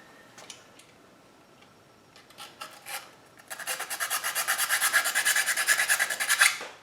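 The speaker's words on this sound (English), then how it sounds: "looks like I'm going to have to sand into these two LEDs to get it to work" A Digi-Tails LED tail light part for a 1987 Oldsmobile Cutlass 442 is sanded and filed by hand: a few scattered scrapes, then a run of quick, rhythmic rasping strokes close by, with no talking.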